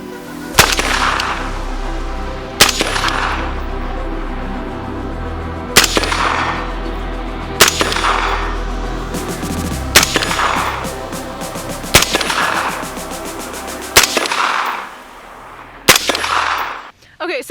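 Gunfire from a PWS MK116 Mod2 piston-driven AR-15 rifle, eight loud, sharp shots fired one at a time at a steady pace about two seconds apart, each ringing briefly against a constant low background rumble.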